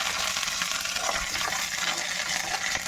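Curry leaves, mustard seeds, chana dal and urad dal crackle and sizzle in hot oil. The sizzle is steady, dense and close, with no talk over it.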